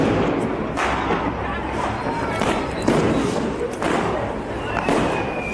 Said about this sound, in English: Everybody's outside on the main streets, the roads, the sidewalks, popping fireworks.